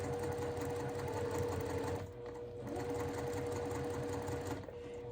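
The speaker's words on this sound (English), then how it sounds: "As it feeds, I'm watching right here as it goes under the presser foot." A sewing machine runs steadily as fabric feeds under the presser foot while a quilt block is pieced, its fast even stitching whirring close by with a brief pause midway before resuming.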